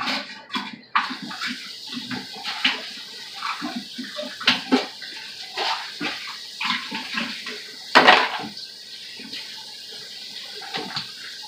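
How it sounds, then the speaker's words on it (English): Hands being washed under a running kitchen tap, with water splashing and gurgling irregularly, close and moderately loud, with occasional knocks against the sink. "I'm going to wash my hands real quick."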